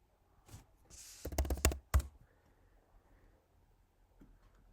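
A few sharp mouse clicks land in a quick cluster on radio buttons in a Lazarus (Free Pascal) program form, close and fairly quiet, with faint keyboard-like ticks around them and no talking.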